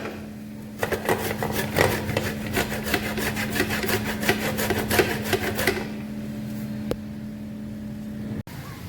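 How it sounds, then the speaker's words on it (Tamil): Peeled tapioca root rubbed against a carrot grater, a run of steady rasping strokes in a fast even rhythm that stops near the end, close and moderately loud, with a constant hum underneath and no talking. "இதை வந்து இப்போ கேரட் சீவுறதுல வந்து நம்ம துருவி எடுத்துக்கலாம்"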